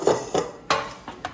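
Pans and dishes clatter during home meal prep of sweet potatoes and broccoli, with four or five distinct clanks and knocks spread across a short moment, fairly close and crisp, with no talking.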